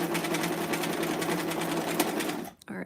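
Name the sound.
sewing machine stitching a pillbox hat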